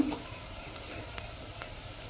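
Garlic frying in hot tempering oil in a home kitchen, a faint, steady low sizzle with a few soft crackles and no talk.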